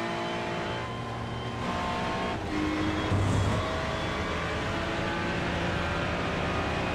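GT3 race cars, a BMW and a Porsche, battle in a sim racing league event at Spa, with a steady engine drone and rising revs as cars pass close by.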